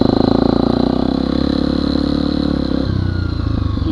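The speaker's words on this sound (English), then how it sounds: "You can hear the engine braking." Motorcycle with a Rekluse auto clutch decelerating in second gear under engine braking, a loud close engine note with steady pulsing clatter that drops abruptly near the end as the clutch releases.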